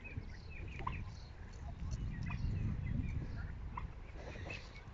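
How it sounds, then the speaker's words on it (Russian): Turkeys under a tree in a village yard in the morning gobble in short, overlapping bursts, faint and somewhat distant against steady outdoor background noise. "Индюшки все вон они под деревом."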